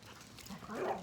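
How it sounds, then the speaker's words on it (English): Dog vocalizing in a backyard, a soft whimpering yip rising toward the end of a brief, fairly faint moment in the background. "You can hear my dog in the background because I'm in the backyard"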